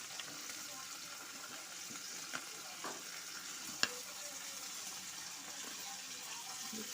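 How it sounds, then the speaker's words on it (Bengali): Beans and peas frying in a pan give off a steady, soft hiss of sizzling oil, with a few faint clicks of stirring, quiet and continuous without speech. "এখন দিয়ে ভালো করে ভেজে নেব"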